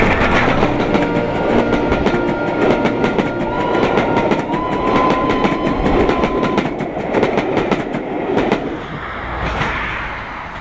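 A train runs along a Scottish railway line toward Fort William, a steady, loud rumble of wheels and carriage noise with rhythmic clatter throughout and no talk.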